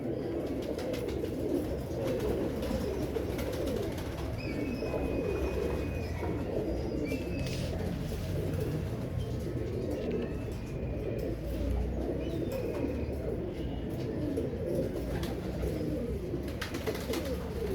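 A pair of Royal Teddy pigeons cooing in soft, repeated low calls against a steady bed of loud background noise that runs through the whole stretch.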